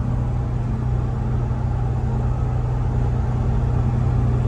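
Cabin road noise inside a 2001 Ford Excursion Limited 4WD with a 7.3L Powerstroke diesel cruising at about 55 mph, a steady loud low rumble with tire hum and no voices.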